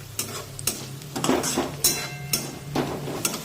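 Cut green chillies sautéing in hot oil with garlic in a pan, a continuous close sizzle broken by repeated scraping strokes of a spatula against the pan, roughly one every half second, with no talk.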